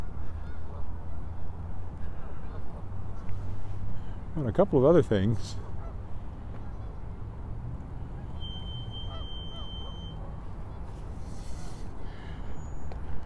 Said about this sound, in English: having to wait for the goose to cross the road here.